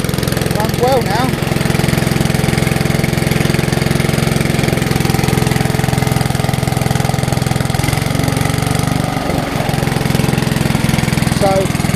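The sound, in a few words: Hayter Hayterette lawn mower engine running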